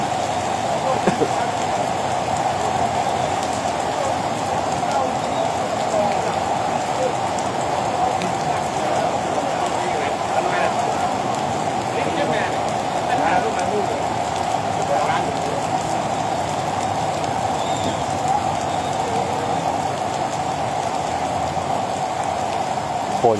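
Heavy rain pours down steadily near a temple with three chedis in Thailand, a loud, dense, unbroken hiss that lasts the whole time, with a voice faintly under it.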